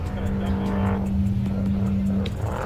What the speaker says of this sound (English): this is the chase truck right here